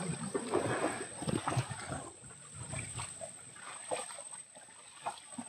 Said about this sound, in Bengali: ভাইদের আসলে এই কারণে নৌকা টানতেও কষ্ট হয়ে যাচ্ছে।